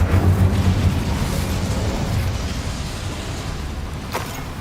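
Incendio fire spell cast in the video game Hogwarts Legacy, a loud roaring burst of flame with a heavy low rumble at the start that fades steadily, with a brief crackle near the end.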